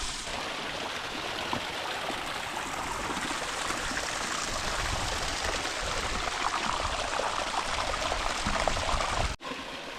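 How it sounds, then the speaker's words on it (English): Small waterfalls in Arizona's Superstition Mountains rush steadily and close by, a dense, unbroken wash of falling water that holds the same level throughout with no voices. "Found some waterfalls. Well, they're smaller waterfalls, but I'm gonna count them."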